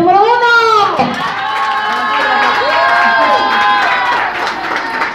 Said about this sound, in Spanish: Aplausos para la participante número uno.